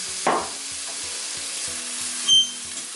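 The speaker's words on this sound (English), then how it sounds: "Fry it up for a minute or 2." Food fries in olive oil in a pan with a steady, close sizzle, low soft thumps ticking at an even pace underneath and two brief louder bursts of spitting.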